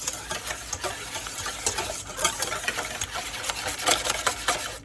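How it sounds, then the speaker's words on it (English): A spoon stirs seasonings such as pepper into a squash casserole mixture in a bowl, making a steady run of close, moist scraping and sloshing strokes with an uneven rhythm and no talking. "I'm just going to give it a mix"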